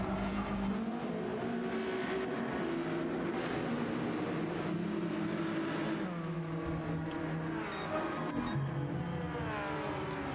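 A Ferrari race car in a racing video game braking and accelerating through a chicane, a loud, continuous engine whine that shifts in pitch with downshifts and revs, with no talking.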